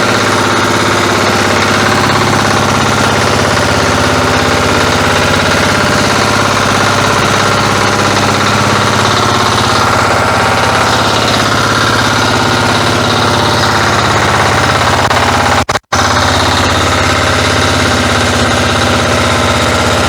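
Walk-behind tractor (motoblock) engine idling steadily and close, a continuous chugging drone with a dense low rumble that runs almost the whole time, with one brief sharp dropout near the end and no talking.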